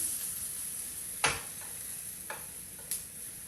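Plant-based bacon fries in oil in a pan with a steady soft sizzle, broken by a few light clicks and taps of a utensil against the pan.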